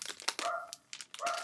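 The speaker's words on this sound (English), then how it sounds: "Sorry, the dogs are barking." Dogs barking nearby indoors, a few sharp barks in quick succession with a brief whimpering tone, heard alone without talk.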